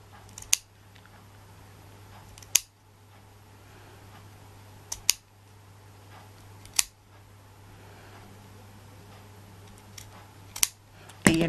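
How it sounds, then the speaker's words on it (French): Scissors snipping strips of fabric close to the fur on a furry piece, with about six sharp, separate cuts spaced a couple of seconds apart over a low steady hum. "Bien faire glisser le ciseau dessous pour ne couper que le tissu,"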